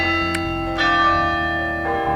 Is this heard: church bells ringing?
yes